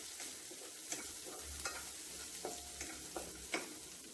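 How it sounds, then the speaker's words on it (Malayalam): Green chillies, curry leaves and garlic sauté in a pan. A soft, steady sizzle runs throughout, with a few light scrapes and taps as they are stirred. "പച്ചമുളക്, കറിവേപ്പിലേക്ക് ഇട്ട് കൊടുക്കാം. ഇതൊന്ന് വഴറ്റിയെടുക്കാം."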